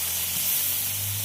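Tomatoes fry in a pan, giving a steady, close, broadband sizzle and hiss that runs throughout without pauses, with no talking over it.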